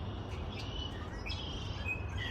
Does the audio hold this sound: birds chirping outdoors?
yes